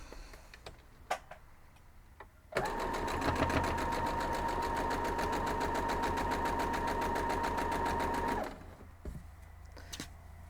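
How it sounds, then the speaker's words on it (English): A sewing machine stitches quilt block fabric steadily for several seconds with a fast mechanical rattle and hum, starting and stopping abruptly amid quiet surroundings. "I'm just going to grab it from the sewing machine and sew them down"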